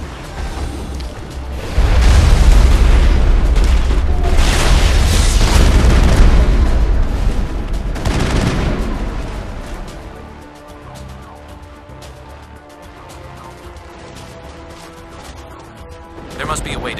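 Heavy artillery fire in Mass Effect on Virmire lands as a run of deep, loud booming blasts that rumble for several seconds, then fades into quieter crackling debris and lingering background noise.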